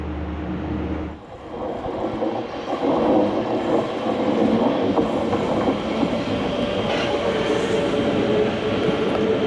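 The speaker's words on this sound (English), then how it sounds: "That's my metro!" An Oslo metro train rumbles into the station, a loud steady roar of wheels and motor with faint squeals, no voices.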